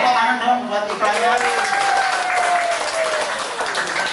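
An audience at an Indonesian roadshow event applauds an advertisement, a dense burst of clapping that fills the whole stretch, with a voice briefly carrying over it.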